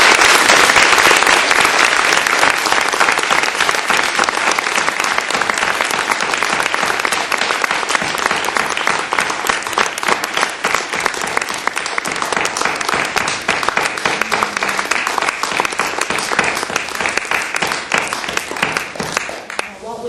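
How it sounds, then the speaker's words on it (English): Sustained, loud applause from a poetry recitation audience at a state finals event, dense clapping holding steady for about twenty seconds before easing off at the end. "for us to just give a really long round of applause with these people in mind"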